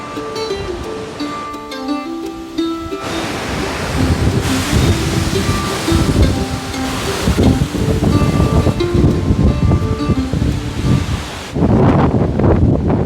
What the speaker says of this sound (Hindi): अभी तेज़ हवाएं भी चालू हो गई